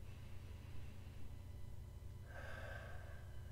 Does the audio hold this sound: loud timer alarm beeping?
no